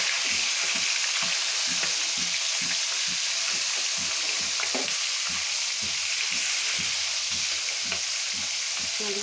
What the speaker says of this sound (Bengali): মাছগুলোকে উল্টে পাল্টে ভেজে নেব।